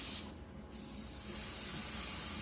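Aerosol can spraying rust-base paint onto the hood of a 1956 Ford, a close continuous hiss with a short break near the start before the spray resumes and swells steadily.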